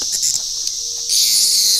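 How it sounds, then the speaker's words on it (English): Four captive cicadas give off a loud, steady high-pitched buzz that swells louder partway through, with faint rustling underneath. "We've got 4 cicadas. Oh, they're loud."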